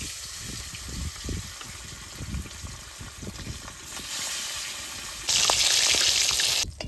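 Fish fry in mustard oil with a continuous crackling sizzle near the pan, punctuated by low bubbling pops, then a louder hissing surge toward the end as the oil flares.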